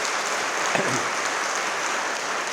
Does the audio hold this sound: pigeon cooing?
no